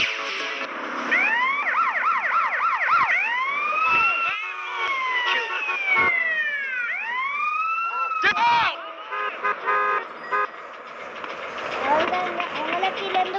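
A police vehicle siren wails loudly and close, with rapid rising-and-falling sweeps that shift into longer slow wails and then a pulsing pattern.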